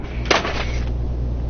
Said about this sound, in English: That was the sound of the keyboard falling